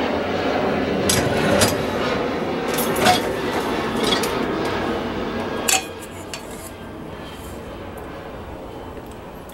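Clean dishes, cutlery and a baking dish clink and clatter as they are handled out of a Midea dishwasher after a half-load cycle, close and fairly loud with irregular knocks over a steady background hum.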